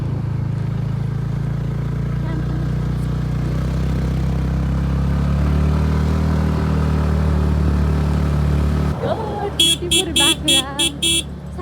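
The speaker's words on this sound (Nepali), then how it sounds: "शान्तिले हर्न बजाइ बाख्रालाई कस्तो राम्रो छ" A vehicle horn honks in several short bursts toward a goat on a mountain road trip from Pokhara to Taprang, cutting in near the end after a long stretch of steady engine rumble and road noise.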